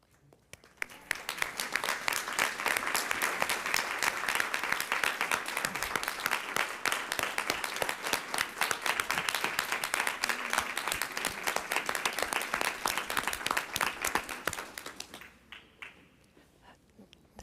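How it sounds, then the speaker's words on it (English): Sustained audience applause at a school board meeting, dense continuous clapping that swells quickly, holds steady for about fourteen seconds, then drops away abruptly to near quiet. "let us give you a round of applause, please."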